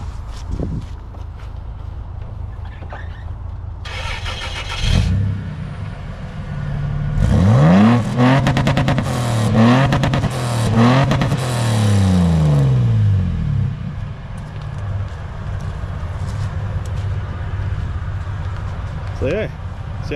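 A car engine revs up and down in several throaty bursts during an outdoor exhaust sound check with a deep note, loud and close, with people talking around it before and after.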